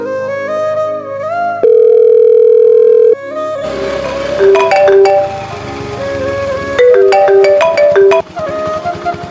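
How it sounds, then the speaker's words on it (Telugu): An outgoing phone call's ringback plays as a melodic tune, broken by a long steady tone, then more bright tonal notes in an even pattern, close and loud with no talk. "ఒకసారి ఆడికైనా ఫోన్ చేద్దాం."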